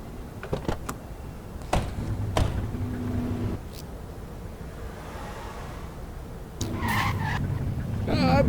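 A car in the police game The Precinct drives with repeated tire skids and squeals, engine humming between the sharp screeches, loud and close.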